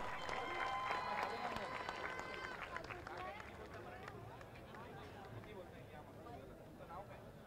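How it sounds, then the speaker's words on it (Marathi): A crowd at a cricket tournament prize ceremony claps for a lucky draw winner, a faint, distant patter of applause with voices talking over it. "टाळ्या झाल्या पाहिजेत"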